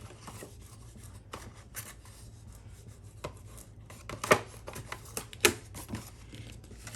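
Hands rub over tape on a small box, giving soft, scratchy strokes punctuated by a few sharper taps and knocks, close and fairly quiet with no talk.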